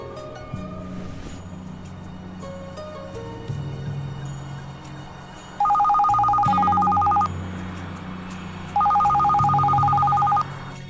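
A telephone rings twice in bright electronic bursts over low music, each ring lasting about two seconds with a pause between.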